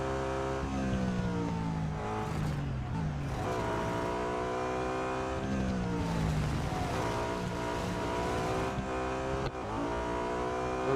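Engine of a BMW M3 GTR race car lapping Silverstone in the Real Racing 3 video game, a continuous revving drone that climbs and drops through gear changes, steady and fairly loud with no talk over it.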